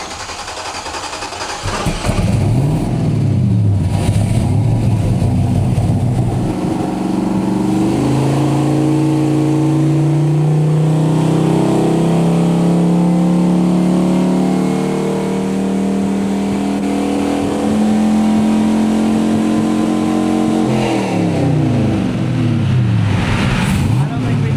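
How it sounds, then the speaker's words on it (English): LS V8 engine fed by three lawnmower carburetors revving, rough idle rising into a long sustained high-rpm wail that steps through pitches and then drops back, loud and close, with voices talking over it. "We have lawnmower carburetors on our engine"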